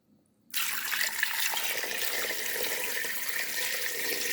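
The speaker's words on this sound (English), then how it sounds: "I'm going to go right ahead and add some water to the pot" Water poured from a tap into a cooking pot for Jamaican brown stew pigtail, starting abruptly after a short near-silence and then running steadily as a loud, close, continuous hissing rush.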